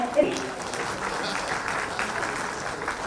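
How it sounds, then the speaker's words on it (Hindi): An audience applauds a minister on stage at a public event in Jharkhand, a continuous, fairly loud patter of many hands spread across the whole moment with a voice faintly mixed in. "माननीय मंत्री महोदय जोरदार तालियां होनी चाहिए"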